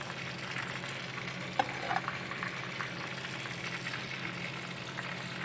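Shrimp with lettuce and chili simmers and sizzles in a pan after broth is poured in, a steady, soft bubbling and frying hiss with a couple of brief utensil clinks near the start.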